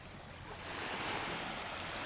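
Sea waves wash softly and steadily onto a shore facing Burias Island, with a light wind hiss over the surf.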